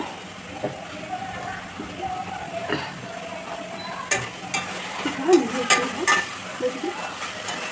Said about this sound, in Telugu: కలుపుకోండి.